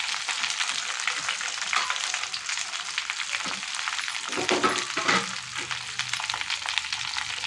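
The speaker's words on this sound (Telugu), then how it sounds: "తర్వాత మనం దానిలోనికి ఈ బెండకాయలు అనేది వేయాలండి" Half a kilo of okra sizzles loudly in plenty of hot oil, a continuous close crackle with occasional stirring scrapes and thumps partway through, no talking.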